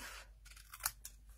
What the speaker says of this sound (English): Now I'm going to take my mint tag and I'm going to cut it in half